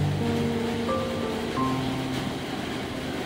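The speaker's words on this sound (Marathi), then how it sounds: "आता हे आपल्याला पाण्यातून स्वच्छ धुवून घ्यायचे आहेत" Continuous running water splashes steadily as mushrooms are rinsed, with no talking.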